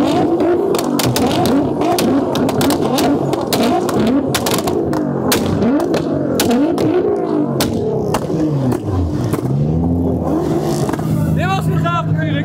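Tuned cars at a Japanese car festival in Assen, including a GTR, rev their engines hard in a rev battle, producing dense overlapping revs and sharp crackles that stay loud throughout as people speak over it.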